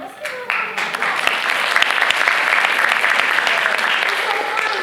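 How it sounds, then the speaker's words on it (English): Presentation audience breaks into sustained applause, dense clapping swelling quickly after a brief start and holding steady and loud throughout. "Let's give her a round of applause."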